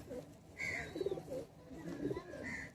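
Soft, low cooing from high-flyer pigeons repeats a few times, fairly quiet against faint background noise.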